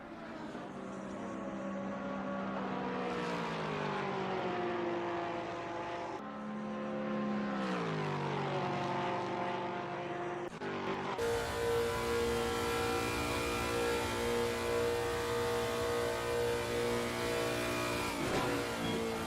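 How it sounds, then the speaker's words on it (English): A Lexus GT3 race car screams down the straight at Paul Ricard in Assetto Corsa Competizione, the engine revving loudly and steadily through rising gears with an abrupt shift partway, loud and close throughout. "Really is a quick car, this Lexus, down the straightaways."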